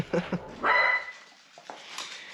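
Several dogs in a house bark and yip in short close bursts, with a whimpering whine between them and a couple of quieter yips afterward.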